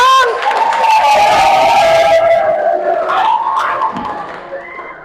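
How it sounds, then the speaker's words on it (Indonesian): Audience in a classroom session cheering and whooping loudly for a student group. A sustained burst of shouts and voices fades gradually toward the end. "Oke, beri tepuk tangan dong."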